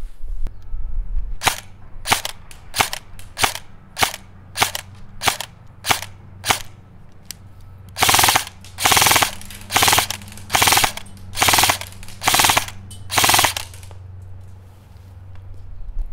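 An airsoft gun with hop-up fires BBs at a target, first as a run of sharp, evenly spaced single shots, then as a set of louder, longer bursts close to the mic, with no talking.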